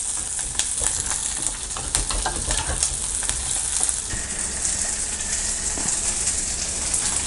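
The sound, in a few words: curry leaves frying for tempering mutton kuzhambu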